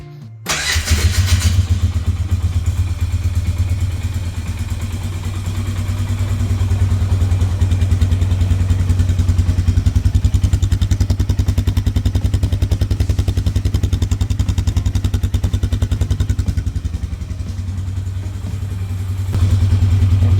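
Polaris Sportsman ATV engine cranking and catching after an intake replacement, then running steadily at a loud, close, even idle that swells slightly and settles for about twenty seconds.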